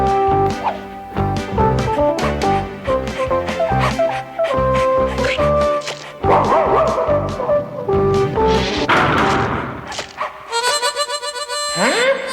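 Small cartoon puppies yip, bark and whimper in quick bursts over lively music, with a brief voice mixed in.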